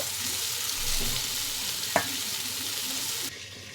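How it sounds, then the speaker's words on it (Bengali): Flat beans fry in a pan with a steady close sizzle, a sharp clink of the stirring utensil midway, and the hiss drops away abruptly near the end. "দিয়ে ভালো করে ওটা ভেজে নেব আমি লাল লাল করে"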